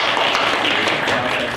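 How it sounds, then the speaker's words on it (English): An audience applauds to cast a vote for Prometheus at a high school theater class show, a short, dense burst of clapping mixed with cheering voices. "If you like Prometheus, give it applause."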